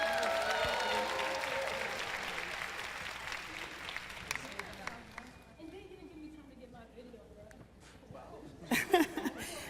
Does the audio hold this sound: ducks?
no